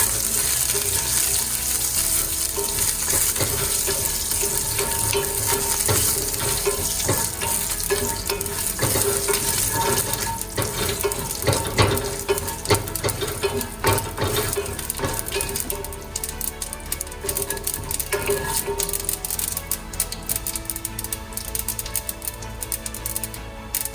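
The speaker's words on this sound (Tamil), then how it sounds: "கடுகு போட்டு தாளிக்கணும்." Mustard seeds, broken urad dal and cumin sizzle and crackle steadily in hot oil for a South Indian tempering, a dense continuous frying hiss with scattered sharp pops, close and loud throughout.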